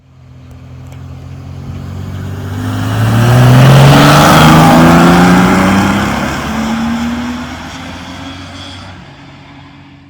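A rare Land Rover Defender 2.8i with a BMW engine revs up, the note rising to a loud peak then falling away, close and clear with no talk.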